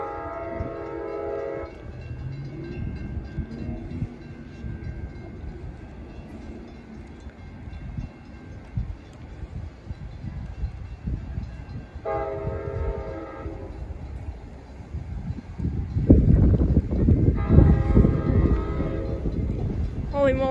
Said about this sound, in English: here comes Amtrak 546 heading to the final destination of Sacramento